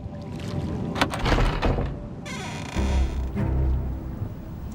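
A door opens in the video game Tomb Raider: The Angel of Darkness. Loud scraping and rumbling bursts build into a sustained grinding slide, followed by a deeper heavy rumble.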